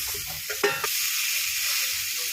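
Eggplant pieces dropped into hot oil in a pan, with a brief clatter and stir followed by a steady, close hissing sizzle.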